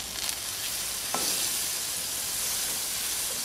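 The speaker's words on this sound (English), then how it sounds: "saute the whole thing in some butter" Butter sizzles and fries in a hot pan, ready for sautéing lobster, a steady loud crackling hiss with a few stirring clicks and no voices.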